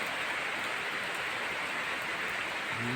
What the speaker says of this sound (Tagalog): Hindi pa tumitigil yung ulan, oh. Tuloy-tuloy pa rin.